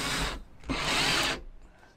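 A power drill drives a screw into a campervan ceiling in a Vauxhall Vivaro conversion, with two short whirring bursts, the second longer, close and loud with no talk.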